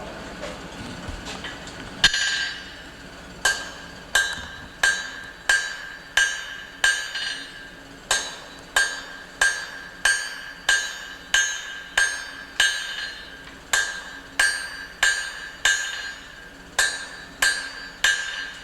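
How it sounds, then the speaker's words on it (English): A blacksmith strikes oversized steel stock on an anvil to forge a rivet, with sharp ringing hammer blows falling in a steady, evenly spaced rhythm, loud and close, each ringing briefly before the next. "I'm using oversized stock, and I'm using edge-to-edge blows."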